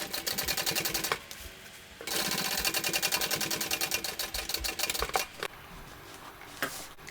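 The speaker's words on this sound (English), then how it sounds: "I'm going to do a second row of stitching just next to the first ones." A sewing machine stitches a second row of stitching on a crossbody bag, with two loud bursts of rapid mechanical rattling and brief pauses between them, then quieter handling at the end.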